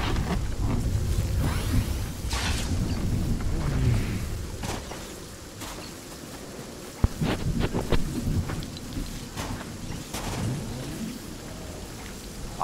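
Rain and rolling thunder from a purple storm in Fortnite, a steady wash of falling rain broken by several loud thunder cracks and rumbles spread across the clip, with no voices.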